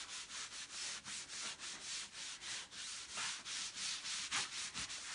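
A board gets wiped with a disinfectant wipe in quick, rhythmic back-and-forth strokes, a steady, close rubbing swish repeating around ten times with no pause.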